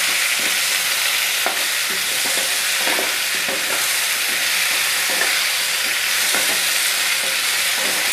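Ginger and garlic fry in a pressure cooker for khichuri, making a steady, loud oily hiss broken by intermittent scrapes and knocks of a spoon stirring the pan.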